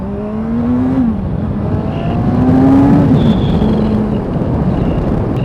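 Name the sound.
Kawasaki Ninja 1000 motorcycle accelerating at full power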